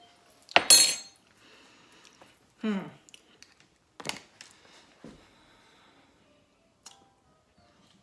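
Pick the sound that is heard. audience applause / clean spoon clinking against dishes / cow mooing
clean spoon clinking against dishes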